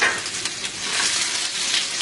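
Garlic browning in a quarter cup of hot oil in a frying pan gives a steady, close sizzle with crackling spits throughout, no voices over it.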